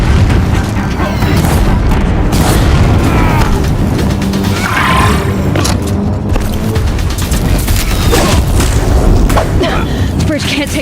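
Deathbringer war machines pound a bridge in the game Horizon Zero Dawn, producing continuous heavy booming and rumbling bursts with crashing debris, loud and dense throughout, with voices shouting over the barrage.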